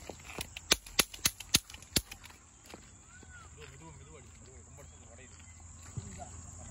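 Diwali firecrackers popping outdoors, a rapid string of about seven sharp, loud cracks in the first two seconds, followed by quieter background sounds, people talking and one more distant pop near the end.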